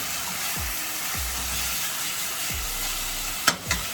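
Meat searing in a pan for a curried lentil, cabbage and chicken dish gives a steady sizzling hiss close by, with a few low thumps and two sharp utensil clicks near the end and no speech.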